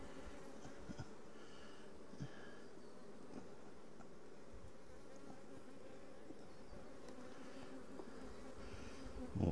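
Honey bees at an open hive on a drone-trapping comb make a steady, dense drone that stays even throughout, close and continuous with no talking.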